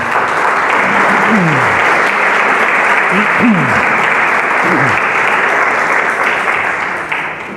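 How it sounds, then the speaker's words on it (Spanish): A church congregation applauds loudly and continuously, a dense wash of clapping close and full that holds for several seconds before easing slightly at the end, with a few voices calling out over it. "Damos aplausos al Señor."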